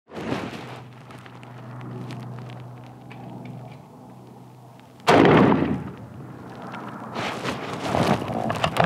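A rifle fitted with a Malcolm 8X scope fires two loud, sharp shots outdoors, one at the very start and another near the middle, each followed by a rolling echo and lingering rumble.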